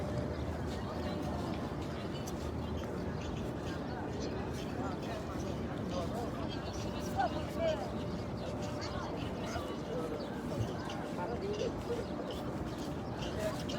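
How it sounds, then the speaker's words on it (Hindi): A flock of pigeons near the Prophet's Mosque in Medina at dawn, cooing and fluttering up as they are chased, heard faintly within a steady outdoor crowd murmur and distant voices. "ये भाई तो अपनी वीडियो के चक्कर में कबूतरों को उड़ा रहे हैं भाग भाग के।"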